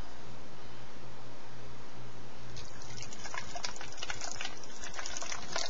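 Home-brewed beer pours steadily into a bottle with a rushing, hissing gurgle that grows brighter and more splashy halfway through as the stream fills it.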